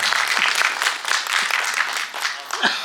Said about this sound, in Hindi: उनके लिए तालियां बजा सकते हैं